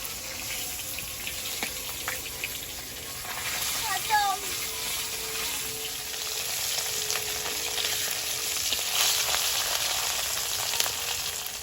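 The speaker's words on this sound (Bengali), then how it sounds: "মাছের ডিমটা একখানায় দিয়ে ভেজে নেব" Fish roe fries in hot oil in a pan in a home kitchen, a continuous close sizzle with faint stirring and clinks, and a brief voice in the background.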